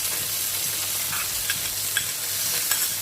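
Salted fish stir-frying with chopped garlic in a hot pan for fried rice, a steady sizzle with a few sharp scraping clicks of the spatula, close and continuous.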